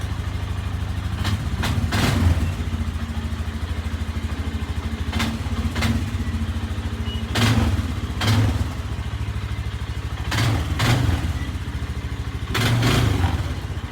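A Polaris Sportsman 500 ATV engine idles steadily up close, broken by a handful of short throttle blips that rise and drop back, roughly every couple of seconds, with no talking.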